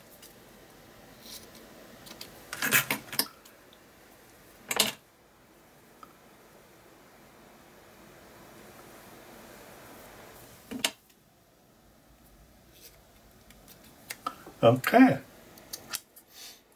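Scissors trim ribbon for a handmade journal, giving a few short crisp snips spaced out over quiet handling noise, with one word spoken briefly.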